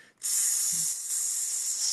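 A voice imitates hissing steam with one long, loud, steady breathy hiss, close and sustained, with no words spoken.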